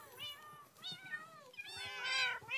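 Several cats meow in quick succession, close and clear, with bright drawn-out cries overlapping one another and no voices.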